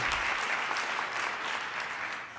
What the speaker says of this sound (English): I want you to give another round of applause to Claire